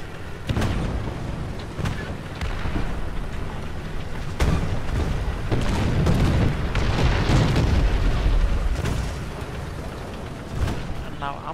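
Tank cannon fire and explosions in War Thunder, several heavy booms and impacts over a continuous rumbling engine and battle din, with someone talking through much of it.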